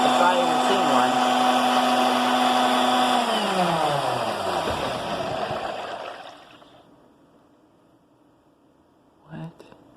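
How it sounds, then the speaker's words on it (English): An old blender whirs loudly and steadily with a harsh motor roar, then winds down and trails off into near silence, followed by a brief soft knock near the end. "That's a tornado in a blender, if I ever seen one."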